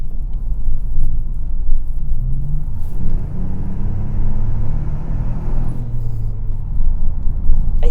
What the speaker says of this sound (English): I do like the noise this car makes